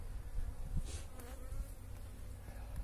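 Honeybees buzzing around a small hive colony just out of winter, a steady close hum with some individual bees passing nearby, quiet and with no talk.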